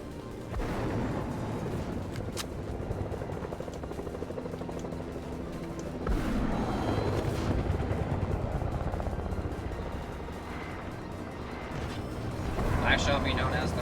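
Rifle gunfire from a Fortnite match, loud bursts of shots and impacts rolling over a dense, busy game mix for most of the stretch, with heavier blasts near the start and around the middle.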